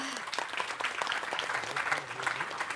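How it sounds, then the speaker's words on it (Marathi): An audience applauds in a dense patter of claps, fairly faint and steady throughout, with a voice faintly audible beneath the clapping. "त्यांच्यासाठी जोरदार टाळ्या."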